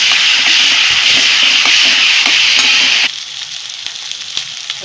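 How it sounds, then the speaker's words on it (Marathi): Masala paste for black pea bhaji roasting in oil in a pan, a dense, bright sizzle with scraping from stirring that drops to a quieter hiss after three seconds. "जरा हे 2 मिनिट चांगलं भाजून द्यायचं तेल सुटेपर्यंत"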